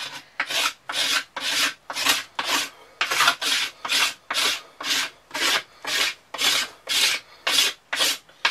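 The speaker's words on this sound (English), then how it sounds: "You could even use your knife scraping like this." Knife blade scraping along a wooden survival bow stave, shaving it down in steady, evenly spaced strokes, about fifteen rasping passes, close and clear with no voices.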